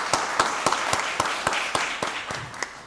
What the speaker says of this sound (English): Give Lisa Chester another round of applause.